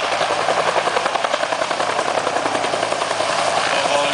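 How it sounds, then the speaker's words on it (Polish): A Cobra military helicopter descends to land at an airshow, its rotor and turbine roar loud, close and continuous, a steady dense wash of chopping noise throughout. "Proszę, z jaką precyzją piloci śmigłowców potrafią parkować swoje maszyny."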